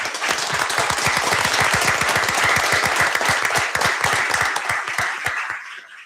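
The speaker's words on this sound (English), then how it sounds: "I'd like to give you all a round of applause." Applause at a city council meeting, a room full of people clapping steadily and fairly close for several seconds before it thins out and fades at the end.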